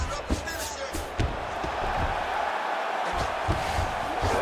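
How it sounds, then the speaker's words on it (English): Crowd applauding at a UFC fight, a continuous roar of clapping and cheering filling the arena, with a few thuds and slaps standing out near the start and end, while a commentator's voice runs underneath. "they can take in the applause because they deserve it after that grappling exchange"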